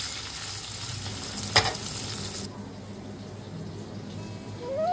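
Onion frying in a pan, a steady low sizzle with one sharp clink of a utensil early on; the hiss drops away sharply partway through, leaving a quieter background.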